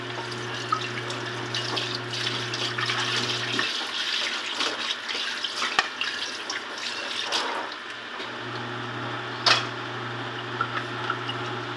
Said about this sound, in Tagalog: Tapos na ako maghugas, guys, ng plato